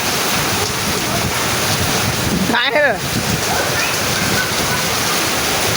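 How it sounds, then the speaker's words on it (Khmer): Heavy rain falls at night, a constant loud roar of water with wind-like rushing, and a voice cuts in briefly in the middle. "ភ្លៀងខ្លាំងណាស់"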